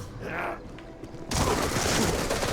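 A sudden loud burst of video game gunfire erupts after a second of quieter ambience, sustained dense shots until the end.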